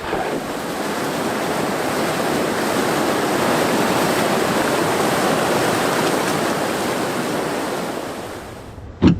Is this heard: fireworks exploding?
no